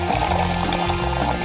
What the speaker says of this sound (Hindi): चलो अब ऊपर से इसमें पानी डालते हैं।